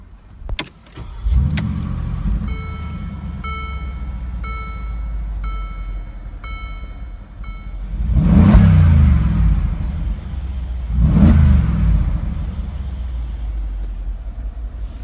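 A 2017 Mercedes-Benz AMG G63 SUV engine cranks and starts, settles into a steady idle, then revs loudly twice with rising and falling surges.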